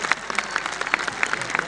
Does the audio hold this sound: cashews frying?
no